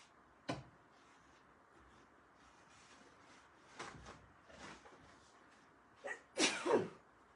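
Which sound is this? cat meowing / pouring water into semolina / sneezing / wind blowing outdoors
sneezing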